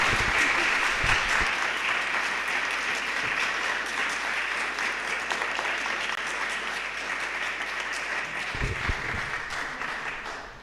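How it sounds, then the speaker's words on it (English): Audience applause at an alpaca conference, a long steady roll of clapping from a crowd with a few faint voices under it, tapering slightly toward the end. "A round of applause"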